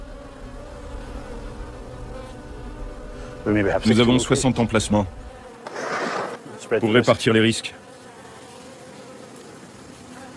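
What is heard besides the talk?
honey bees buzzing at beehives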